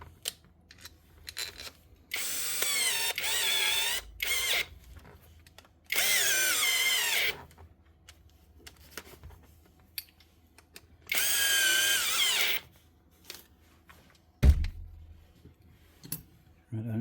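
Cordless Milwaukee power drill running in short loud bursts of about one to two seconds, separated by clicks and handling noise in a workshop during a power tool repair, with faint talk between the runs.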